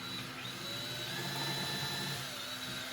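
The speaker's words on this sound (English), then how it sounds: "I'm going to drill a pilot hole since I'm screwing into the plywood." A power drill bores a pilot hole into the edge of plywood, giving a steady whine with a faint high tone at moderate volume, continuous and alone for a few seconds.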